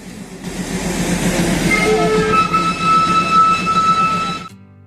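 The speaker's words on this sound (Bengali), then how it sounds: "পাশ দিয়েই হয়তো চলে যাবে স্টিম ইঞ্জিন চালিত টয় ট্রেন" A steam-engine toy train on the Darjeeling mountain railway rumbles past loud and close, its wheels clattering steadily while a long, high whistle-like tone sounds before the noise cuts off abruptly.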